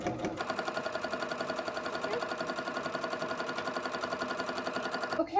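A sewing machine run by foot pedal with a quarter-inch presser foot stitches fabric for quilt triangles, giving a steady, fast, even mechanical chatter that starts and stops cleanly, close and alone.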